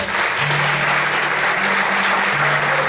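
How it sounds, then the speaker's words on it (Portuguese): A congregation at an evening church service applauding, a steady, dense wash of clapping with a low held tone underneath for the whole three seconds. "Você pode aplaudir o Senhor nessa noite?"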